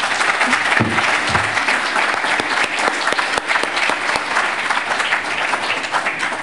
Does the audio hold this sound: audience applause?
yes